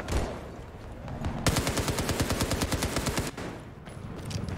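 Rapid automatic gunfire in Battlefield 4, a steady burst of sharp evenly spaced shots lasting about two seconds amid a constant bed of distant battle noise and scattered reports.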